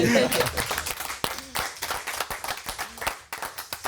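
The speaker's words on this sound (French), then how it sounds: "Tous les cas, on peut l'applaudir." A radio show studio audience claps for the host, a few sharp irregular hand claps in a small group rather than a big crowd, close and distinct with brief vocal sounds mixed in.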